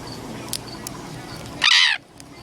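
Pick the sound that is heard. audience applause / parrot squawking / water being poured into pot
parrot squawking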